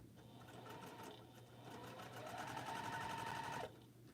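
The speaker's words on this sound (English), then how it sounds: "we will sew these 2 rows together" Sewing machine stitching two quilt rows together, a close, steady rapid mechanical chatter that speeds up and grows louder toward the end, then stops abruptly.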